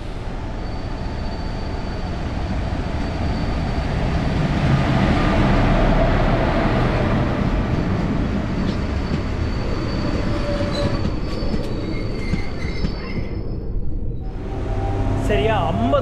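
A Chengalpattu–Arakkonam EMU electric commuter train runs along the line in a steady, loud rumble of wheels and carriage noise heard from on board, with a faint squeal near the end.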